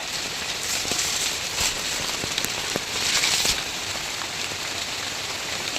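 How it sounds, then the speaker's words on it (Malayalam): Rain falling outdoors, a dense and steady hiss of drops striking surfaces with scattered louder patters, fairly close and constant throughout, with no voices. "ആ വലിയ മഴ അങ്ങ് കുറഞ്ഞ് ഇപ്പം നമുക്ക് അനുയോജ്യമായ മഴ അല്ലേ"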